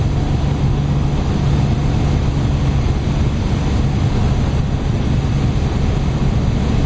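A Lotus Omega cruises at high speed in sixth gear around 2600 rpm, a loud steady engine drone mixed with heavy road and wind roar, unbroken and without talk.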